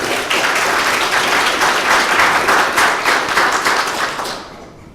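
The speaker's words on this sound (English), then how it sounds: "Round of applause for him" An audience at a township address breaks into sustained applause, a dense wash of many hands clapping that starts suddenly, holds steady for several seconds, then fades out.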